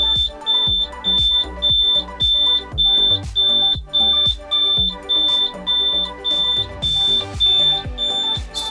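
A combustible gas detector alarm sounds in a regular repeating pattern of loud, close, high-pitched beeps, about two per second, continuing throughout with faint handling noise underneath.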